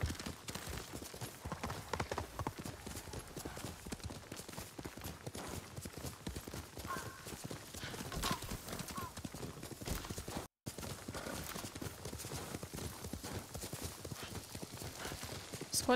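Galloping horse hooves pounding steadily and quickly throughout a ride in Ghost of Tsushima, loud and continuous, with only a brief dropout partway through.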